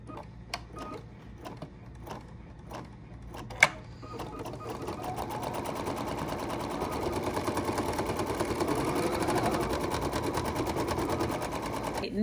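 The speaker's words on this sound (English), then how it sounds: "Now it's time to do the tack down or the placement stitch for the swim trunks." An embroidery sewing machine stitches a tack-down placement line through fabric hooped over two layers of tear-away stabilizer, starting with a few separate clicks and then settling into a steady, fast mechanical whir that builds slightly and runs close and continuous.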